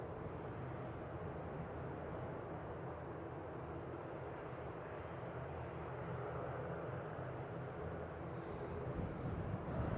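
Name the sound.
ATR turboprop airliner landing in gusty wind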